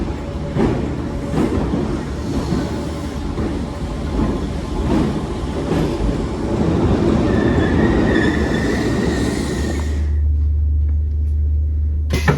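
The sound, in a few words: Merseyrail train at Hunts Cross station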